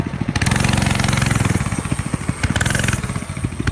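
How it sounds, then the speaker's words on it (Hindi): A motorcycle engine in an animated Hindi film, loud and close, revving with rapid throbbing pulses as the bike pulls away, then chugging on with uneven bursts. "रॉड और कल्लू मामा घोस्ट राइडर की बाइक पर बैठते हैं और वहाँ से निकल जाते हैं"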